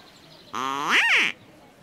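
A single loud, close duck quack with a rising and falling pitch sounds from the point-and-click adventure game Geheimakte 2, standing alone against quiet background.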